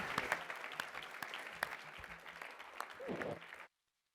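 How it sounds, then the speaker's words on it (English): Press conference audience for The Hobbit: The Battle of the Five Armies gives a big round of applause, dense close clapping with a few sharp claps standing out, rising briefly near the end before cutting off abruptly into silence. "a huge round of applause for our incredible cast and crew from The Hobbit, the Battle of the Five Armies"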